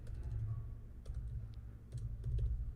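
Rapid clicking keystrokes on a computer keyboard, close and fairly quiet, in irregular bursts over a low steady hum, with no talking.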